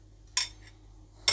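A metal dessert spoon clinks twice against a bowl while a level spoonful of sugar goes into a cracked-olive preparation, two short bright taps close by in a quiet kitchen.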